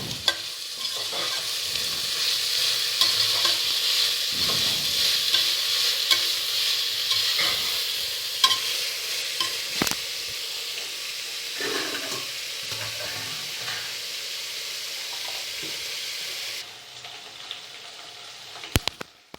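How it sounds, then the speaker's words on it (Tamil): Green chillies sautéing in hot oil for beef biryani, a continuous bright sizzle with a spoon scraping and stirring in the pan at intervals, ending with a few sharp knocks. "கூட அதில் பச்சை மிளகாய், நல்லா செந்நிறமாக வதங்கிடணும்."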